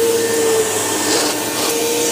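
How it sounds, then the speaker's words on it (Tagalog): A Rainbow vacuum cleaner runs loud and close with a steady whining motor drone and a constant airy roar, unbroken throughout. "rainbow vacuum guys."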